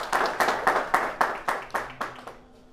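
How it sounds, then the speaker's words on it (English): Graduating university students clap in a slow, sparse rhythm of about nine distinct claps that fade out toward the end, moderately close and with no talking over them. "Clap for yourselves for having come to today."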